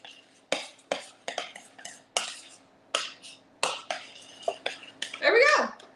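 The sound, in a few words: mixing chocolate chips into banana bread batter with a spoon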